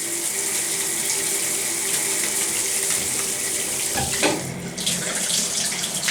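Water pours steadily from a bathroom faucet in a hotel room with a strong, even hiss, close by, shifting slightly as hands move under the stream near the end.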